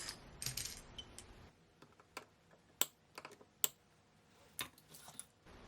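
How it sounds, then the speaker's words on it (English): Zip ties being cut off the drive mechanism of an old La-Z-Boy recliner: a handful of sharp, close snips spaced irregularly over faint background noise, with no talking. "And cut off these zip ties."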